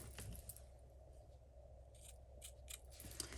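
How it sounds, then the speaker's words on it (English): Scissors trim ribbon tails in close, quiet snips, a few short crisp cuts spread across a near-silent moment of card-making. "Then I'm gonna trim this down a bit because we don't need that to be that long."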